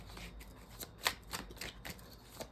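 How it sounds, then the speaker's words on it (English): A deck of oracle cards is shuffled by hand at close range, giving quiet papery riffles and soft taps in short irregular bursts with brief pauses between them. "The cards want to just be shuffled this way, so we'll just stick to that."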